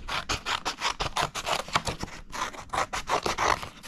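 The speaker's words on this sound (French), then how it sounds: "je prends mon ciseau" Paper being cut with scissors, roughly around butterfly shapes, in a steady run of close, crisp snips and rustling slices with no talking.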